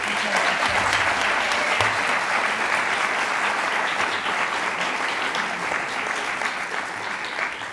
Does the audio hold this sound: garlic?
no